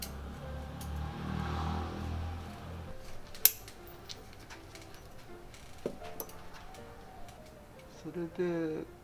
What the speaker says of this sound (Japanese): これ針金切り専用のハサミなんですけど、これでねプツプツプツプツ切っちゃってもいいんですよね。